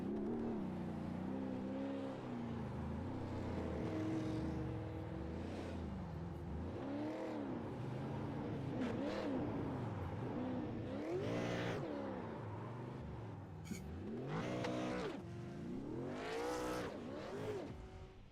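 A V8 race car in a sim racing game spins donuts on a tarmac corner at the Nürburgring, the engine revving up and down in repeated surges with squealing tires throughout.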